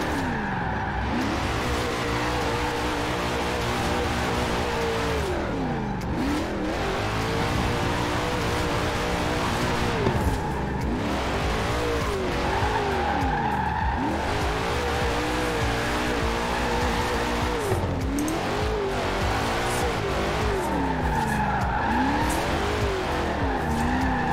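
A small car with oversized 25-inch wheels drifts in Forza Horizon 4's Hot Wheels expansion: a loud engine rising and falling through revs under long continuous tire squeal and skidding, with no talk.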